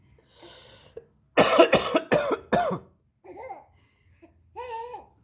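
A man gives a loud cluster of four close, harsh coughs, preceded by faint vocal sounds and followed by a child's babbling laughter.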